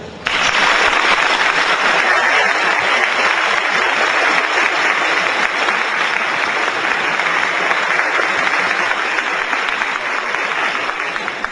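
Sustained applause from a conference audience welcoming Paul Hellyer at an Exopolitics Toronto event, loud and steady for about eleven seconds with no talk over it.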